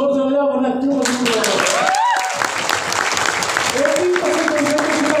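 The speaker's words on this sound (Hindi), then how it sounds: "ताली बजानी है तो जोर से बजाओ" An audience at a performers' meet applauds a speaker with loud, sustained clapping that fills the hall after the speaker's voice stops. The voice returns faintly beneath the applause near the end.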